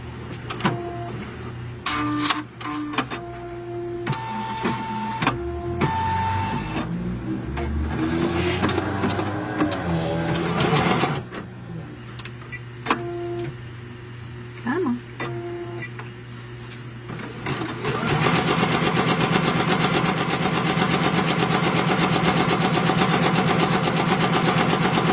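Embroidery machine stitching a placement line directly onto cutaway stabilizer for a beginner in-the-hoop project, a steady mechanical whir with rhythmic needle clatter and stops and starts, turning louder and denser near the end.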